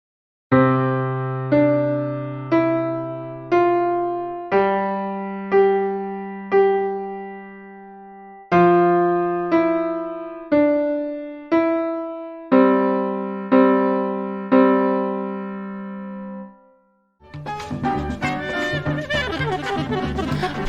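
A piano plays a simple two-handed beginner lesson piece, bass notes held under a slow melody of evenly spaced notes, close and clean, before a brief burst of busier, denser sound at the end.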